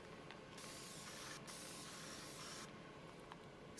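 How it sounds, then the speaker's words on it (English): Steady hissing spray of alcohol spritzed over resin coasters, a continuous close mist lasting several seconds with brief pauses between bursts. "Spritz it with some alcohol."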